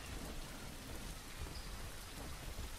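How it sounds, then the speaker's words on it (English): Rain falls in a video game as a steady, fairly faint hiss with scattered low rumbles, heard on its own without voices. "It's raining."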